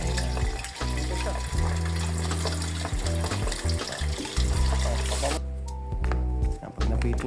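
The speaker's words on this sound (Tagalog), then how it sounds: "Pwede na siyang iprito yan. Gandaan na ako ng langis." Boiled pork ears frying in hot oil for sisig, a steady loud sizzle with crackling that runs throughout, overlaid by a continuous tonal hum, with a sharp drop in hiss near the end.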